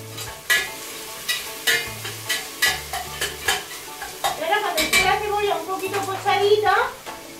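Onion frying in a pan for Murcian potage is stirred in a run of rhythmic scraping strokes over a soft sizzle, with someone talking over it.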